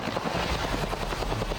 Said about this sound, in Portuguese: O helicóptero sobrevoava a comunidade do Barro Vermelho, em Duque de Caxias